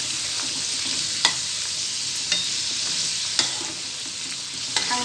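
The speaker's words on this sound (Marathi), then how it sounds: "चांगलं गोल्डन फ्राय तर तळून घ्यायचं." Fried modak sweets cooking in hot oil for Ganesh Chaturthi, a bright, continuous sizzle with a few sharp spoon taps against the pan, close and alone with no voices.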